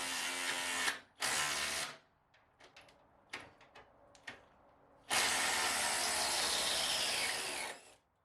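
A Hercules impact driver sinks a half-inch lag bolt in two loud, sustained bursts of whirring and hammering. Short clicks and taps fill the pause between the bursts.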